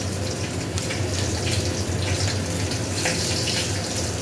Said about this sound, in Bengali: জল দিয়ে দিই, একটু বেশি জল দিয়ে আগে বেটে নেবো না